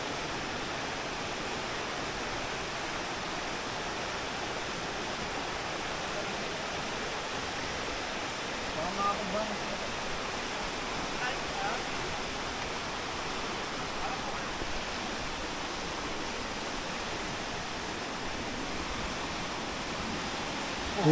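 A stream runs beside a waterfall trail at Aloha Falls in Carranglan, Nueva Ecija, making a steady, full rush of water that fills the whole stretch without pause.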